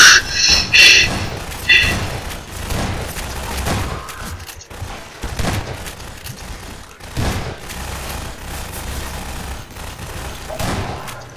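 Several bursts of gunfire in Garry's Mod ring out in quick succession, with scattered thumps and softer game noise afterward, while a player talks.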